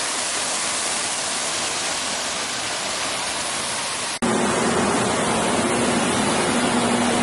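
A European stone fountain in Zaragoza splashing steadily with a dense close rush of water that shifts abruptly partway through as hands are washed in the stream.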